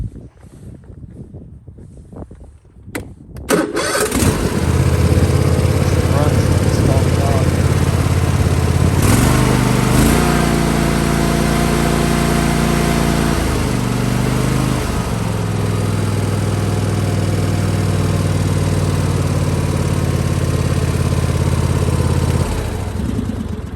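A riding lawn mower with a heavy-duty axle and tall tires starts with a few cranking sputters, then settles into a loud, steady near idle that briefly shifts pitch midway before continuing evenly.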